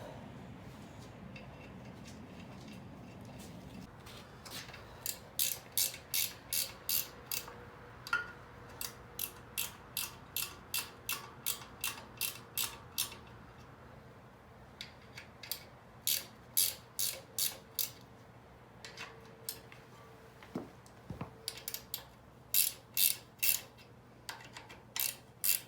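A ratchet tightening a nut on a Dana 44 axle backing plate, quick regular clicking strokes in a series of close, crisp bursts with short pauses between them, in a quiet workspace.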